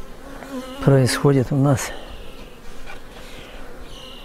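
Honeybees at an apiary hive buzz in a dense, steady drone, while someone speaks Russian in short bursts over the swarm near the start.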